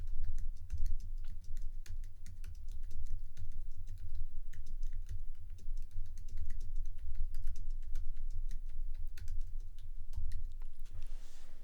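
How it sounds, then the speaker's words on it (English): Continuous typing on an Apple keyboard, crisp rapid key taps in an uneven rhythm over a low steady hum, heard close up with no voices. "Here I am typing on my Apple keyboard."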